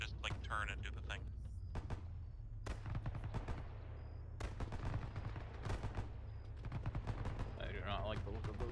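Scattered gunshots and machine-gun bursts in Arma 3 during a World War II battle at Edson's Ridge, sharp cracks over a steady vehicle rumble, with voices talking at moments.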